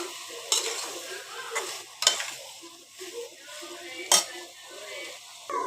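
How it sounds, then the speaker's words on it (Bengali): Fish fries and is stirred in a pan with okra and spices, a soft sizzle broken by scraping strokes and a few sharp utensil clinks against the pan. "মাছটাকে আমি ভালো করে ওইটার সাথে ভালো করে কষিয়ে নিব"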